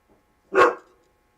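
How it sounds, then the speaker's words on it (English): A single loud, close dog bark bursts out alone, one short sharp woof rising fast and fading within about half a second, with near silence before and after. "That's my dog."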